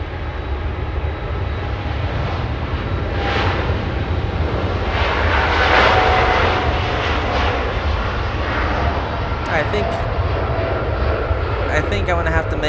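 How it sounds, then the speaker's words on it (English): A KLM jet airliner departs Los Angeles International Airport, its engines giving a loud, sustained roar that swells slightly and then holds steady, with a few brief clicks near the end. "We have the KLM departure happening right now."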